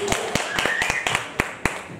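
A few people at a church service clap in celebration, sharp, separate claps in an uneven rhythm rather than full applause, with faint talk or singing underneath.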